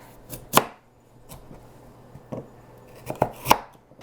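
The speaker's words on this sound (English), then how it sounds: "So I just cut off the bits that are just kind of ugly that I don't really want, and then I just chop it." Knife chopping produce into small pieces for juicing on a cutting board, several crisp, irregular knocks spread across a few seconds, close and fairly quiet between strikes.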